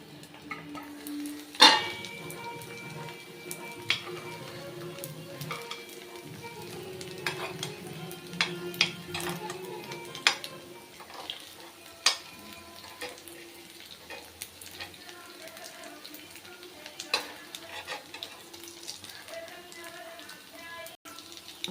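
Aval paniyaram batter cooks in a pan, with a soft steady sizzle under repeated light scrapes and clinks of a spoon stirring against the metal.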